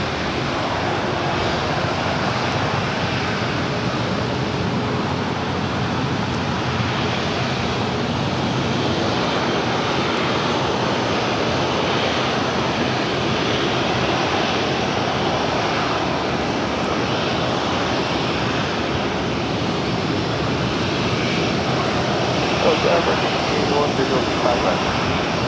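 A heavy jet airliner departs Los Angeles airport, its broad, steady engine roar filling the whole span at close-to-moderate distance, with faint radio voices underneath.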